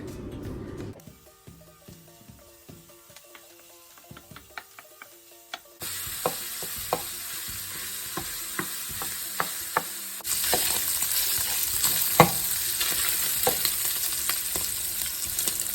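Small pieces frying in a pan on a medium-high burner for homemade breakfast gravy. Quiet at first with faint tones, then a steady sizzle rises around six seconds and grows louder after ten, dotted with sharp scraping clicks.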